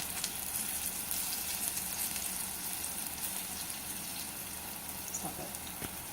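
Ripe plantains (plátanos maduros) frying in hot oil, a steady soft sizzle and crackle throughout, fairly quiet with a few small pops near the end.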